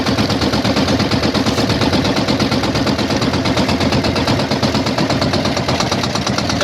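A fishing boat's engine runs steadily and loud at close range, a continuous rapid mechanical chug with no pauses and no voices.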